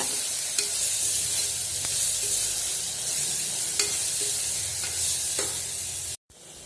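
Chicken biryani masala with rock salt being sautéed in a pan: a steady close sizzle with scraping stirs and small clicks of the spatula throughout, no talking, cutting out briefly at the very end.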